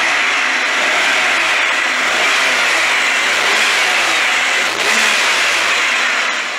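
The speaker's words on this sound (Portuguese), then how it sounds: "Motorzão coração perfeito, tá ok? Motor de Ranger 1999." A 1951 Ford F1 pickup fitted with a 1999 Ford Ranger engine runs close by, its steady mid-pitched drone holding through the clip with a slight surge of revving near the end.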